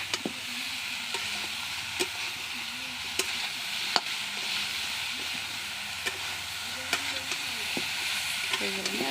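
Bhaja frying in a pan hisses with a steady sizzle, while sharp clicks of stirring recur every second or two and a voice murmurs faintly underneath.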